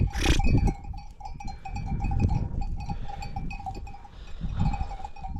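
Sheep bleat a few times amid a flock in a village, with livestock bells clinking and rustling movement nearby outdoors.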